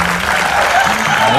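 Studio audience applause for a guest named Alin on an Indonesian TV talk show, a dense steady wash of clapping filling the whole moment at full loudness, with faint voices and a low hum beneath.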